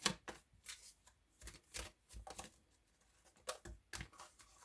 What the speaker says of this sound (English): I love these cards. I love shuffling them.